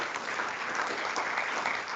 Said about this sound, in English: I think you deserve all a warm applause because this was an excellent job